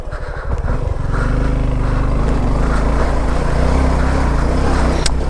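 A motorcycle engine labours loudly and steadily while riding over difficult monsoon terrain, with a deep continuous drone and rising and falling revs. There is no talk.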